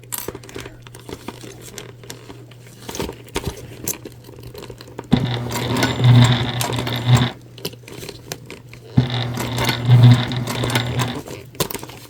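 A sewing machine slowly top stitches the sides of a candy bag in two short bursts, each about two seconds long, separated by quieter fabric rustling and handling sounds.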